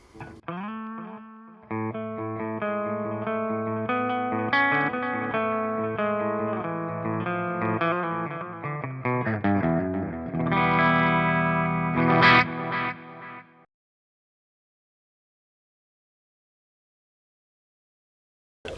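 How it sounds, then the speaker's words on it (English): Clean electric guitar through a BluGuitar Amp1 Mercury clean channel, with reverb and a multi-effect delay, repeats notes that trail off in echoing delays, building into a dense wash before cutting to silence. "And a delay from my multi-effect."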